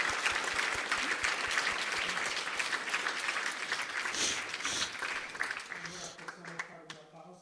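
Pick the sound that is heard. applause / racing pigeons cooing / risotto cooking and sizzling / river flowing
applause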